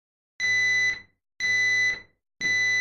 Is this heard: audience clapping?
no